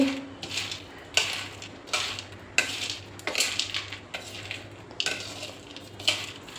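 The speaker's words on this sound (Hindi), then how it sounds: "सभी को अच्छे से मिक्स करेंगे।" Roasted chickpea chaat being mixed in a bowl with a spoon, giving repeated close clinks and scrapes in a loose, uneven rhythm, with a faint sizzle in the background and no talking.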